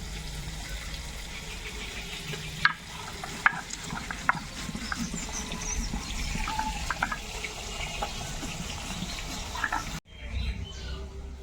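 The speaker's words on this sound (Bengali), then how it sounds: "লাল লাল ভাজা হয়ে গেছে এবার আমি মাছগুলোকে তুলে নেব থালার মধ্যে" Fish frying in oil in a pan, a steady broadband sizzle with scattered crackles and a few louder pops, continuous and close, cutting off abruptly near the end.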